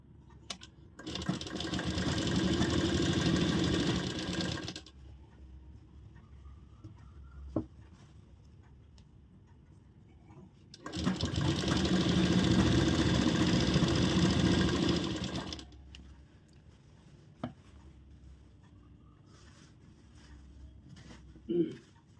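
A sewing machine stitches fabric with a half-inch seam allowance in two separate runs of about four seconds each, loud and close, with quieter pauses and a few clicks of fabric handling between them.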